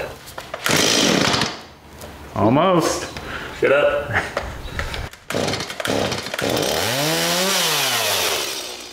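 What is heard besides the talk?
chainsaw running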